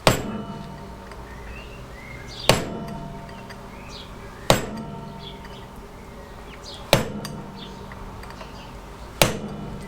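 Sharp metallic hammer blows peen a part into a classic Fiat 500 front brake assembly, five single strikes spaced about two seconds apart, each ringing briefly over a quiet room background.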